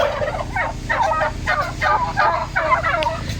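Turkeys on an organic turkey farm, grown to slaughter weight, gobble in a run of about six rapid, loud, close bursts, each following quickly on the last with no talking.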